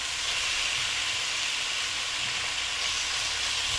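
Bacon frying low in a pan, a steady, even sizzle with a bright hiss that holds unbroken from start to end, close and moderately loud with no talking.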